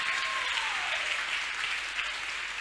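A church congregation claps and cheers in praise of the Lord during a night service, steady dense applause filling the whole stretch at close range, with no one speaking over it.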